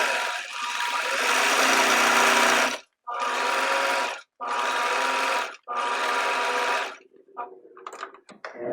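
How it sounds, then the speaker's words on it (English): A sewing machine stitches fabric for an ironing board cover in a nearby whirring run of about three seconds, followed by three shorter bursts separated by brief pauses, then a few light clicks and handling noises. "you'll definitely be sewing over some kind of mashed together wrinkle of fabric"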